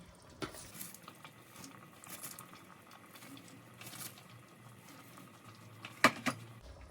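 Cabbage being stirred into a goulash sauce in a pot, soft wet mixing and shuffling with scattered light clinks of utensil against the pot and a sharper clank near the end, no talking.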